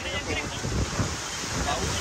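Rough sea waves on the Mumbai shore: a low, rumbling surge of surf mixed with gusting wind buffeting the microphone, with a faint voice in the background.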